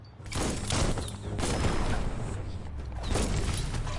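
A bomb lobber in a video game firing bombs, giving repeated heavy bursts and rumbling booms in a steady, loud barrage across the whole stretch.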